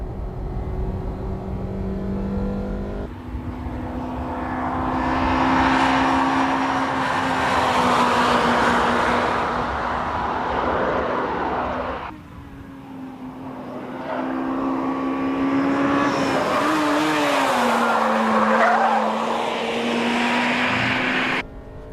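A Honda Integra Type R races around a track course, its engine droning hard through rising revs, with a pause for a gear change and a brief dip before the note climbs again, loud and continuous without voices.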